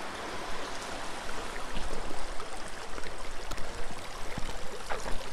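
Meltwater stream in snowy Anapa flowing nearby: a continuous close rushing and trickling of water with small splashy bursts, heard alone.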